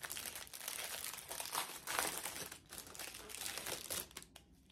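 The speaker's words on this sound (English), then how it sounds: "Let me just take it out of the plastic so you guys can see it." Crinkly plastic packaging rustles and crackles as a cash binder is unwrapped, an irregular close-up crumpling that keeps going with brief pauses.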